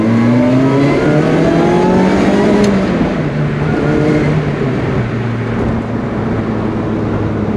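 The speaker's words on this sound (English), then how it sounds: "So we've got a bit of a tunnel here, so I can show you some of the noise that it generates, especially the supercharger." A Lotus Exige S drives through a tunnel at twilight, its supercharged engine a steady, loud drone with a rising supercharger whine, reverberating continuously with no talk.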